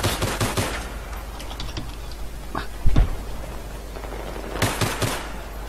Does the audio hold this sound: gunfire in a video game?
yes